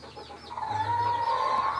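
Chickens cluck on a farm with rooster Camaro nearby, a steady layer of fowl calls and a sustained higher crowing-like tone rising over soft background noise, fairly close and continuous.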